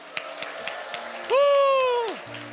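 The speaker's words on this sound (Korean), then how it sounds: "끝까지 훈련 잘 받으시라고 힘찬 응원의 박수하겠습니다." Applause from a group of small-group leaders cheering on trainees at a church training session: scattered claps give way to a loud rising cheer or whoop that holds for under a second, then fades.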